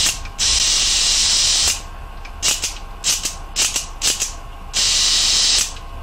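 A Bell and Howell electric eye movie camera mechanism runs smoothly in several bursts, with long steady whirring runs broken by short separate mechanical spins, close and fairly loud with no talk.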